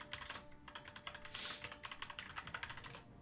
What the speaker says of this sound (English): you guys should not hear this keyboard this loud anymore